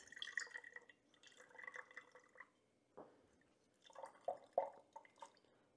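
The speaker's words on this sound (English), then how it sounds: "And you can see I'm going to squeeze it out." Water squeezed from a soaked Swedish dishcloth, splashing and dripping into a container in several close bursts separated by short pauses, with trickles and splats, quiet room and no speech.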